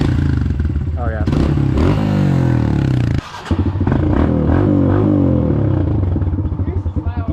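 A motorcycle engine, just cold-started, rumbles loudly and close, with throttle blips and revs rising and falling while people talk over it.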